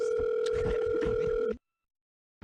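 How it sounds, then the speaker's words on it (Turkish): A doorbell rings with a steady electronic two-tone buzz, fairly faint and cutting off abruptly after about a second and a half, followed by silence. "Kapı çalıyor."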